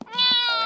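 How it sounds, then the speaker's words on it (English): Cat giving a single short, clear meow, close and fairly loud, with a rising then falling tone lasting under a second. "Where there's a box, there's a cat."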